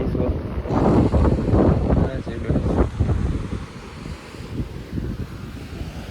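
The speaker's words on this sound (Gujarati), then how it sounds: "અહીંથી દરિયા કિનારે એટલો મસ્ત પવન આવે" Strong wind buffets the microphone in loud gusts on the seashore at Diu, easing off toward the end, with faint surf and a voice murmuring underneath.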